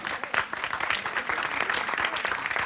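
An audience applauds a flambé demonstration during a cooking show for beef daube with polenta, steady clapping filling nearly three seconds at moderate volume with no talk.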